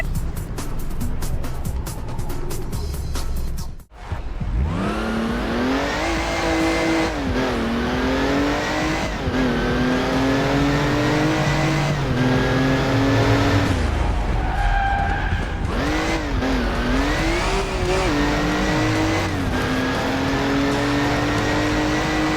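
A car in the 2009 PC driving game Crash Time 3 pulls away hard, its engine revving through repeated rising gear shifts with tyre squeal, loud and close, after a brief silent break.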